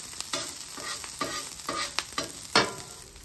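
Garlic fried rice cooking on a flat griddle, giving a soft sizzle under repeated scraping strokes of a spatula stirring the rice, close up and without speech.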